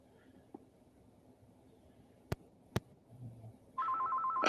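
A phone starts ringing near the end, a steady electronic tone that follows two sharp clicks in a quiet room.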